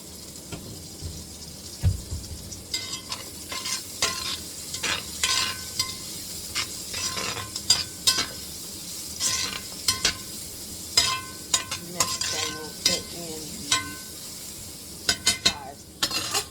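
Food sizzles as it fries in oil, with repeated scraping and clinking as it is stirred in the pan, and a steady hiss continues underneath throughout.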